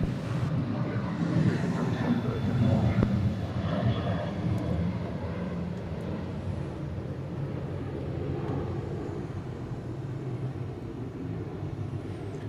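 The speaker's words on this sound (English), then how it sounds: "A fan favorite, Delta 717, about to take off." A Delta Boeing 717 powers up for takeoff at Atlanta airport, a broad steady jet roar that swells early and then holds at a sustained, fairly loud level with no talk over it.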